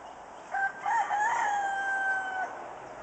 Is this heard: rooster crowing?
yes